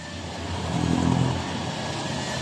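A car engine revs up and settles back to idle through a rusted, rotted exhaust pipe, the rough rumble rising to one loud swell near the middle, with no talking.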